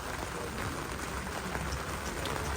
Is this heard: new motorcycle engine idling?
no